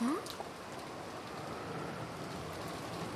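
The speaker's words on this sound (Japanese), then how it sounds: "外はまだだいぶ雨が強いのでお気をつけください。" Heavy rain from the video game Umineko When They Cry pours down as a dense, steady wash that fills the scene, with a short tonal blip at the very start.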